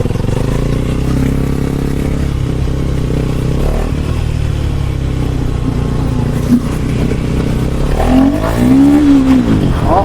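A KTM Duke 390 motorcycle rides along with a loud, steady engine drone, rising into a revving pull near the end, with wind rush and no talk.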